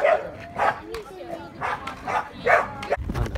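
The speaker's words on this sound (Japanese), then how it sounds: "犬やっば" A dog barks repeatedly outdoors at a ski resort in Russia, four or five sharp barks at an irregular rhythm, fairly close, with a person talking in between.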